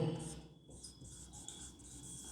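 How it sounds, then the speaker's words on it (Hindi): Chalk or marker scratching across a board in a lecture on the respiratory system, with steady faint strokes over quiet room tone and no talking. "अब यहां लिखेंगे वह वायु"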